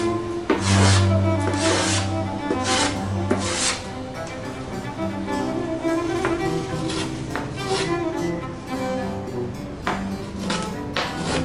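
An old wooden bass bar is cut away from inside a violin with a hand tool, giving repeated close scraping and rasping strokes in an uneven rhythm, with faint tonal ringing from the instrument body.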